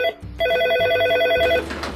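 A telephone rings in a police station, a loud, close electronic ring pattern repeating rapidly for about a second and a half before it cuts off.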